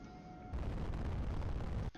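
A sustained booming roar of battleship broadside cannons in a space warfare video game, a loud dense rumble that lasts over a second and then cuts off abruptly.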